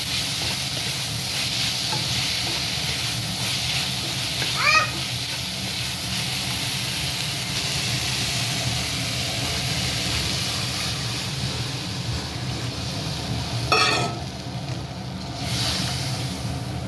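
Vegetables, chicken and mushrooms for a light chicken soup are stirred in a pan, giving a steady low sizzle and hiss with a couple of brief scraping clinks, close and continuous without talk.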